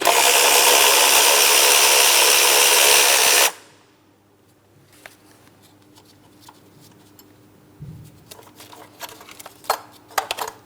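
A 10mm socket works a bracket bolt on a 2003-2007 Cadillac CTS 3.6L V6 engine. A loud rushing burst gives way to quiet, followed by sparse metallic clicks and taps that grow busier toward the end.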